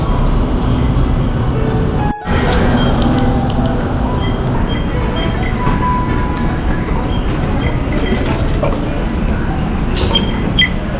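Steady rumble of an MRT metro train in motion toward Monumento, interior noise with faint clicks and squeals along the track, one brief dip early on.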